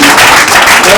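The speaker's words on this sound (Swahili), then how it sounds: "asante tumpigie makofi mazuri." An audience claps briefly, a dense burst of applause that mixes with a voice speaking over it.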